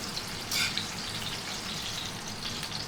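Oil frying over medium-low heat in a pan while cooking spicy honey pork chops, a steady close sizzle with scattered small pops and one brief louder crackle, no talking.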